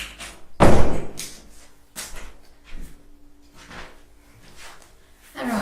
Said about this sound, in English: don't know how we opened the door, but I guess I must have left it not fully closed